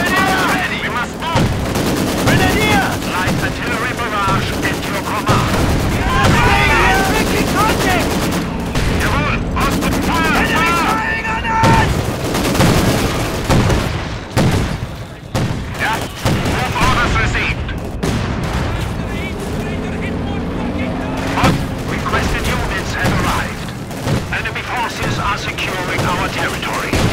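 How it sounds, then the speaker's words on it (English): A light artillery barrage and gunfire in the Company of Heroes 2 video game, with rapid bursts of machine-gun fire, repeated booming shell impacts and crackling rounds across a dense battlefield, loud and sustained with brief pauses, and a voice line heard over it. "Light artillery barrage at your command!"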